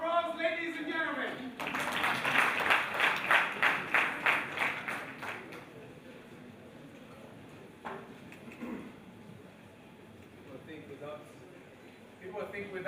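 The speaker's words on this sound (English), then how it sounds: "Round of applause, ladies and gentlemen." An audience at a university challenge launch event gives a brief round of rhythmic clapping that fades after a few seconds, followed by faint room noise and someone speaking into a microphone.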